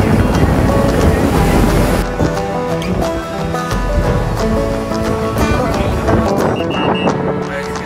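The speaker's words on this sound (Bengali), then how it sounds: "এইখানে এরকম স্পিড বোটগুলো ছাড়ছে" Waves surging on a beach in Udaipur near Digha as speed boats set off, a loud, continuous wash of surf with wind buffeting the microphone.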